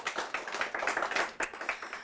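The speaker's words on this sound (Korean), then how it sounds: "다시 한번 큰 박수 부탁드립니다." Audience applause after a jazz talk, a steady patter of many hands clapping close up, continuous for about two seconds with small surges and dips.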